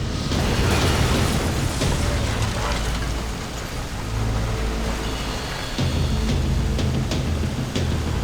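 Bomb blast in the Max Payne 3 video game: a continuous loud, broadband roar of explosion and rumbling debris filling the whole stretch, with dense low-end rumble and crackling, and no talk.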